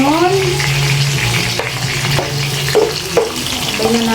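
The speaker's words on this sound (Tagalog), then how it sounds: "Gisa na natin ang tomato." Tomato and onion sauté in a hot pan, giving a loud continuous sizzle close up, with a few sharp scraping stirs through the short stretch.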